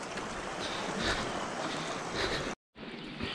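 Water rushes steadily over large boulders in a rocky jungle stream at Debotakhum, Bandarban, giving a close, continuous broadband wash with a brief dropout near the end.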